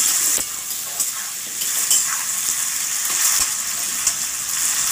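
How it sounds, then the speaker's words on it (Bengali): Salted onions frying in a pan hiss steadily up close while a utensil stirs them, with occasional scraping clicks over the continuous sizzle and no voices. "এবার নেড়ে চেড়ে ভেজে নেব"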